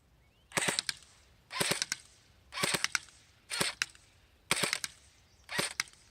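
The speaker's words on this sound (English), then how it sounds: "now we're going to do the optics part of the shooting test, so same thing, 10 shots." Six sharp double-cracked airsoft gun shots fire in an even rhythm about a second apart during an optics shooting test, close and crisp against a quiet outdoor background.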